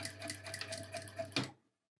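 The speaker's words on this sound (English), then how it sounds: "that's the line of stitching I've done after I've adjusted it" A sewing machine runs a line of stitching on lined tote bag fabric, a close, quiet, fast rhythmic whirring for about a second and a half before stopping abruptly.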